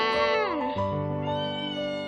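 A playful house cat meows loudly and close by: one long, drawn-out call that bends downward in pitch, then holds a steady wavering tone with no other sound.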